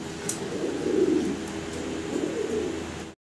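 A pair of German Beauty Homer pigeons cooing close by, soft low rolling coos in two swelling phrases, alone with no talk.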